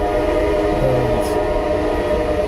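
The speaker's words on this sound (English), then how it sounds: "That train loves us." A passing train sets up a loud, steady rumble that fills the whole stretch, with a short horn blast sounding briefly near the middle.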